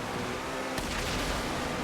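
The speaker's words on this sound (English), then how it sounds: "Explosions from crashes." Explosions from car crashes during a GTA 5 race, a dense, rumbling burst of blasts that swells loud about midway and stays heavy to the end, with no voices over it.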